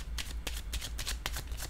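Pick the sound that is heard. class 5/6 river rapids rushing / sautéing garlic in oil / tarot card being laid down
tarot card being laid down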